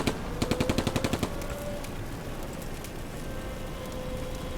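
Heavy enemy gunfire in the World War II strategy game Combat Mission: Afrika Corps: a quick burst of about ten rapid automatic shots, followed by dense crackling, rain-like battle noise.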